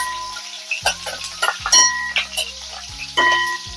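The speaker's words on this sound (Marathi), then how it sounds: "फक्त हिरव्या मिरचीची फोडणी देते" Green chilies sizzle in hot oil for a garlic-free tempering for a festival offering, with a crackling fry broken by repeated metal clanks of stirring in the pan; a voice speaks briefly over it.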